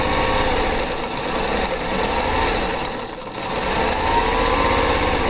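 Close sewing machine stitching a quilt border, a loud continuous rapid mechanical whir with a brief dip in speed midway, no talking.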